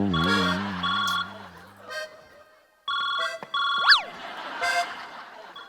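A phone ringtone plays a bright electronic melody of stepped beeps and rising chirps, loud and close. It comes in bursts separated by a short silent gap, during a Marathi comedy sketch.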